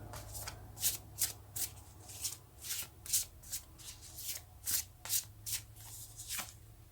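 Tarot cards shuffled by hand in a rapid series of riffling bursts, close and crisp, repeated about a dozen times with short pauses in between and no talking.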